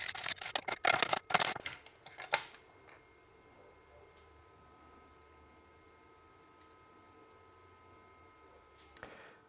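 Piston retaining rings being pried out of a Vespa PK50XL engine: a quick flurry of sharp, close metallic clicks and scrapes at the start, then near silence with a faint steady hum and one last small click.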